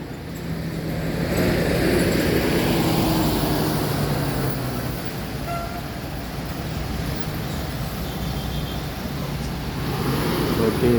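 A Hino RM 280 bus with a Patriot body pulls away, its low engine rumble and road noise steady and fairly close throughout, with a faint voice briefly audible.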